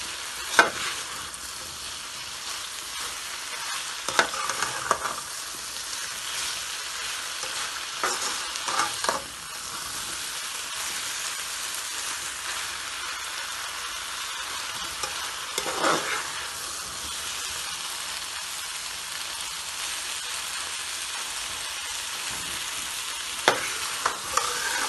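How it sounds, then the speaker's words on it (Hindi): Bottle gourd (lauki) sautéing in a pan for lauki ki sabzi: a steady close sizzle runs throughout, with scattered scraping stir strokes against the pan, and no voices. "लौकी डाल के भी थोड़ी देर भूनेंगे हम इसको।"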